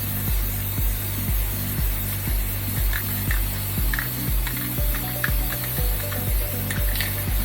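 Short bursts of a spray can spraying onto a stencil, hissing close by with a regular pulsing rhythm under a droning background hum.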